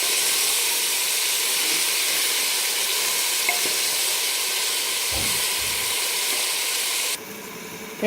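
Chicken sizzles and hisses steadily in a hot pan, with a faint stir or scrape partway through before the sizzle drops a little.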